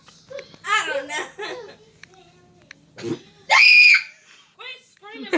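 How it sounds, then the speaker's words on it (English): People scream, one sharp piercing shriek standing out amid excited laughter and children's voices, close and loud. "Quit screaming like that."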